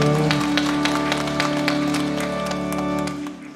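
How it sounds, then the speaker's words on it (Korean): A church congregation claps for a few seconds during a Sunday worship service, a dense steady applause over a sustained organ or keyboard chord that fades near the end. "우리 주님께 영광을 박수드리겠습니다"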